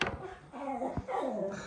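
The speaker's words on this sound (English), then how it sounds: "The dog's barking at a frog again." A dog barks at a frog close by, giving a couple of sharp barks mixed with whining, yipping sounds in a short, loud burst.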